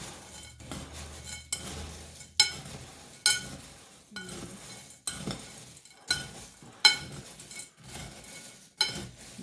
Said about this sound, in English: Now that I've mixed all my cereal and my Cheetos up